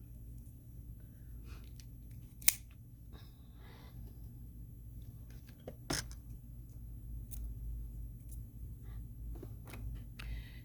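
Scissors cut through bracelet cord with a couple of sharp, isolated snips over a low steady room rumble, with faint handling sounds in between.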